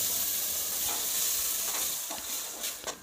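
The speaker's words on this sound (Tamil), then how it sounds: "இந்த தக்காளி நல்லா அந்த ஆயிலே ஃப்ரை ஆகி கிட்டத்தட்ட ஊறுகாய் மாதிரி நல்லா கிரேவி மாதிரி வந்துடுங்க" Tomato paste frying in oil in a pan for tomato rice gives a constant bright sizzle and hiss, close up, with a few soft stirring scrapes toward the end and no voices.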